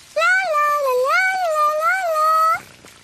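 A single long, wavering cat meow, loud and close, rising and falling in pitch for about two and a half seconds before stopping abruptly, with no talking.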